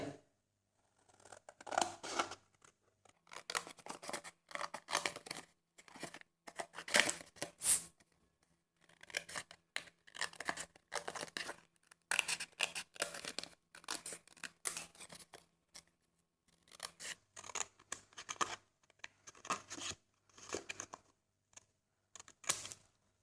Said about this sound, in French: On va ensuite découper ce carré.